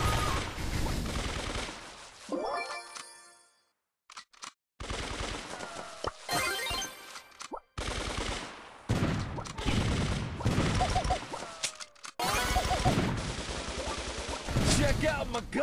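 Rapid bursts of gunfire from the video game Brawl Stars, with dense volleys and mechanical clicks separated by brief silent gaps, loud and close.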